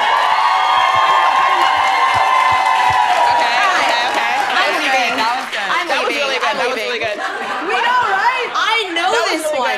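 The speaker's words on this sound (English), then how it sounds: "Can you guys cheer? Like, I scored a goal." A small studio group cheers loudly as though a goal had been scored at a women's soccer show, opening with a sustained shout that breaks into whoops, laughter and excited overlapping voices throughout.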